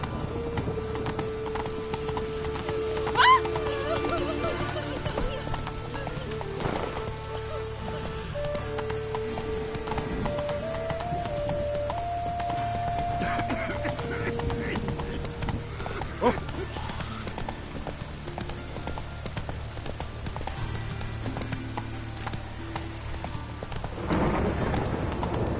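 A horse gallops in The Witcher 3, steady hoof clip-clops running under game ambience with faint rain-like patter and occasional speech for the whole stretch.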